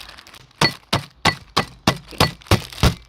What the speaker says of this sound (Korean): 그래서 이걸 여기서 깨야 되는데 소리가 엄청 나겠죠